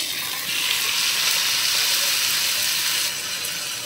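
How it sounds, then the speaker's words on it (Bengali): Noodles frying in a pan on a home stove give a steady, close sizzle with a soft hiss that swells slightly and holds for a few seconds. "তো এখন আমি রান্না করতেছি হচ্ছে নুডলস, বসিয়ে দিয়েছি।"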